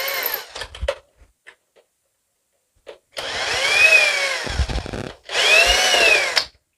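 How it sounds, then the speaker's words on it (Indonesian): A power tool unscrews four bolts on a Schneider NSX 630N motorized MCCB during repair work. Two long, steady whirring bursts are heard up close, each about a second or two, separated by a short pause, with light handling clicks before them. "Kemudian kita lepas juga 4 baut ini. 4 baut ini juga kita lepas."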